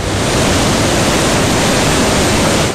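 A waterfall pours with a loud, dense, unbroken roar of falling water that fills the whole moment, with no voices.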